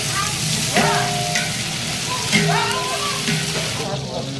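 Onions frying in a pan with whole spices for white chicken pulao, a constant wet sizzle with stirring scrapes while a person talks over it.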